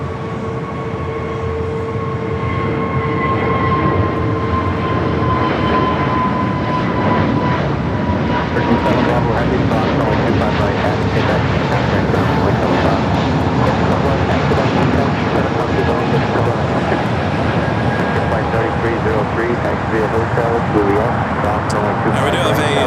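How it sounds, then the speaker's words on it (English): Austrian Airlines Boeing 777-200ER arriving at LAX, a loud sustained jet engine roar with whining tones, building steadily and holding near, with a commentator talking over it. "Austrian is our next arrival here on the south. Flight 5-1, the 777 at 200ER"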